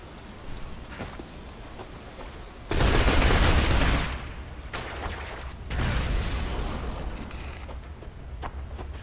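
Bursts of automatic gunfire in the Shadow Complex video game as two soldiers are shot from high ground, with a loud sustained volley followed by another heavy burst after a short gap.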